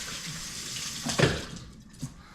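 Tap water runs while sticky, very wet bread dough of flour and water is rinsed off hands, a steady splashing stream with a louder gush in the middle and a brief splash near the end.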